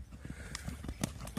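A black Kyrgyz Kara Bayir horse's hooves clip-clop in quick, steady running beats, close by and clear, with no talking.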